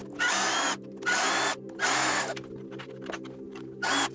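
A cordless power drill drives screws to mount a basement railing, whirring in four short close bursts with brief pauses between them, loud against a quiet room and no talk.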